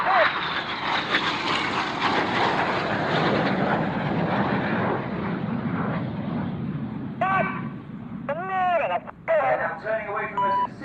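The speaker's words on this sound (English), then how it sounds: "Synchro now closing at over 800 miles an hour, just 100 feet above the runway to perform the Synchro pass" Korean Black Eagles jets roaring low over an airshow runway in a head-on synchro pass, with a loud sustained broadband jet noise that slowly fades, and a voice talking over it near the end.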